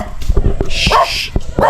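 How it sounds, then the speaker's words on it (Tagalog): Several dogs bark and yip loudly and close by in quick, overlapping bursts outdoors. "Itong mga aso na to, malalakas yung loob nila."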